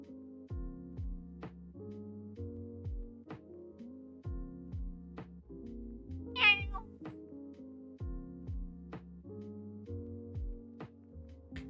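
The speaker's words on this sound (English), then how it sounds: "that was my cat was yelling" A pet cat meows once, a short loud yowl rising over steady looping background music in a home setting, with no talking at that moment.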